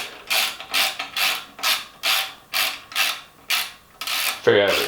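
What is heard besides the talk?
tightening bicycle stem bolt with stripped threads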